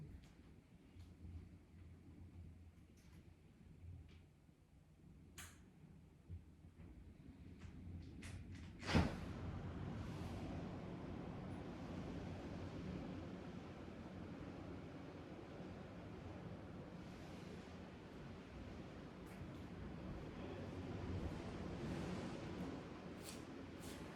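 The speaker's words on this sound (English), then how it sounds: "I'm going to see if I open up my back door that you guys can hear a few gentle crushing of the waves" Gentle ocean waves come through an open back door as a soft, distant wash of surf, rising and falling slowly beneath faint wind noise, with one brief sharp knock partway through and no talking.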